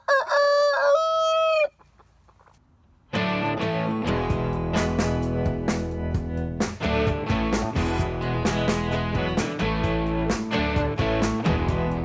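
Free-range chickens on a farm, with clucking and a loud rooster crowing near the start, then a dense, busy stretch of overlapping clucks and calls filling the rest.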